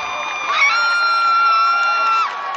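A crowd at a varsity high school baseball game at TD Bank Ballpark, Perth Amboy fans, lets out a loud sustained cheer and shout that swells and holds for a couple of seconds.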